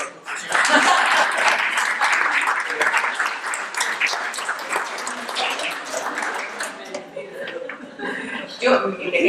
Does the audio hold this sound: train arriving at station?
no